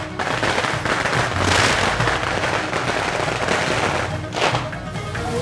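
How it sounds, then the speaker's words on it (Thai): Firecrackers burst in a dense, continuous crackling barrage at a Chinese vegetarian festival procession at a shrine in Ranong, Thailand, loud and close throughout with brief flares of sharper pops. "ประทัดเสียงดังแต่ไม่เจ็บ"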